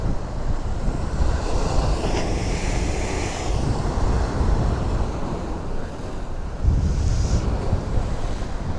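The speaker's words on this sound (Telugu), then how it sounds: "వాటర్ చూడండి రోడ్ దాకా వస్తున్నాయి" Sea surf rolls and washes up toward a coastal road in Konaseema, East Godavari, a steady roar of breaking waves mixed with gusty wind buffeting the microphone, with a fresh surge swelling near the end.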